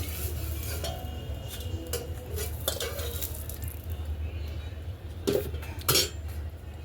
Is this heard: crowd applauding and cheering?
no